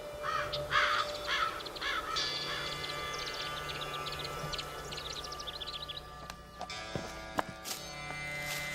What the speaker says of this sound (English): all I could hear was wind and birds